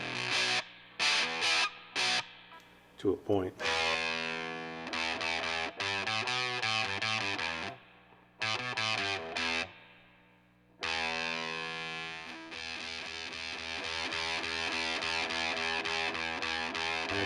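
A Stratocaster played through a Fizz Fuzz pedal into a tube amp produces thick, buzzy distorted chords and sustained notes in several phrases separated by short pauses, with a brief spoken remark among them.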